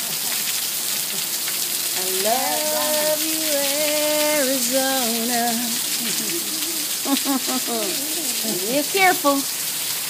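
Heavy rain falls in Arizona with a steady, dense hiss that runs throughout, while someone talks over it and a few louder spatters land near the end.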